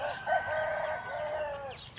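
A rooster at a Thai chicken seller's place crows once, a long drawn-out call close by that holds steady for about two seconds, with no talking.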